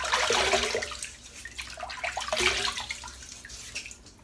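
Water splashes and runs as a head is wetted before a shave, a close gush that fades and then surges again in a second burst.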